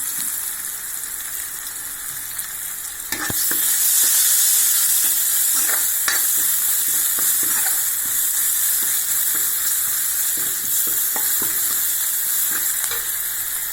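Onions and spices fry in hot oil in a pan for a Tamil nookol kulambu, with a steady loud sizzle that jumps in intensity after a few seconds and is broken by scraping stirs.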